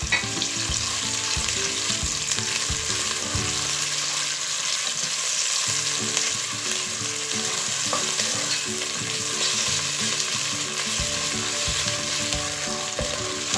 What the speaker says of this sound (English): I'm going to mix this for about 2 to 3 minutes.